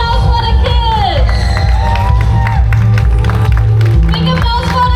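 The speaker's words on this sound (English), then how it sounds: "big applause for the kids!" A crowd cheers and applauds for children at a sandy beach event, a loud, steady wash of clapping and whoops that holds for the whole stretch, with tonal sounds and some voices mixed in.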